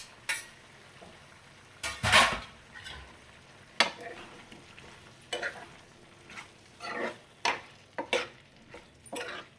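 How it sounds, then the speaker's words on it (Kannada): Onion, capsicum and tomato with paneer stirred in a pan, with a faint low sizzle under scattered scraping and clinking of a spoon against the pan, one loud clatter near the start. "ಈರುಳ್ಳಿ, ಕ್ಯಾಪ್ಸಿಕಮ್, ಟೊಮೊಟೊ ಎಲ್ಲ ಒಟ್ಟಿಗೆ ಹಾಕ್ಬಿಟ್ಟು ಮಿಕ್ಸ್ ಮಾಡಿ ಲಿಡ್ ಕ್ಲೋಸ್ ಮಾಡಿಬಿಡೋದು."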